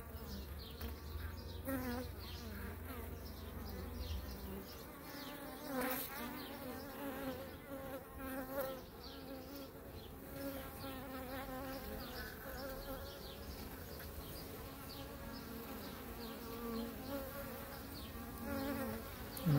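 A swarm of honeybees hums continuously around a queenless hive while a virgin queen is introduced, a close, dense, steady drone lasting throughout with no talking.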